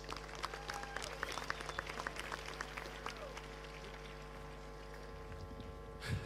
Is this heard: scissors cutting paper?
no